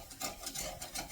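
Metal utensil scraping browned cheese off a pan, a rhythmic rasping repeated in close strokes, fairly quiet and alone with no talk.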